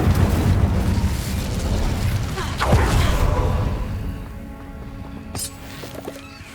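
A burst of fire from the Incendio spell in Hogwarts Legacy, a loud crackling whoosh that swells, then fades into quieter rumbling and a sharp pop near the end.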